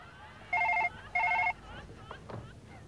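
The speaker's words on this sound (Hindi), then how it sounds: "वो फोन बज रहा है।" A telephone rings twice in short electronic double-trill bursts, clear and fairly close, while faint voices and background noise continue around and after the rings.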